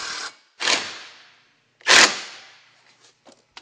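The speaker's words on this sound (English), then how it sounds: "Screw the rake metal into the fascia." A power drill drives screws through rake metal flashing into a roof fascia: two short whirring bursts and a third louder, harsher burst, with faint clicks afterward.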